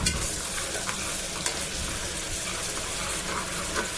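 Onions frying in a pan for pav bhaji, a steady dense sizzle throughout with occasional stirring scrapes and spatters, close and fairly loud with no voices.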